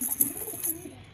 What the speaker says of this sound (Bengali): মাশাআল্লাহ, খুব সুন্দর কালারটা, ভালো লাগেছে পায়রাটা।